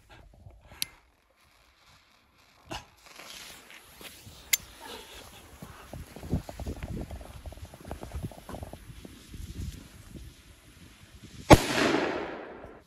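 After scattered clicks and quiet shuffling, a single loud blast from an Armageddon firecracker bursts near the end, its echo trailing off.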